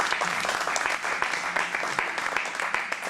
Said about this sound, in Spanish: Denle un aplauso a Cristo bien fuerte